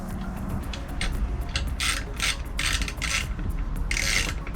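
Bolts are tightened on a custom console in a 1968 Boston Whaler 13 boat with a hand ratchet. Bursts of rapid clicking repeat several times, nearby and fairly loud, with no talking.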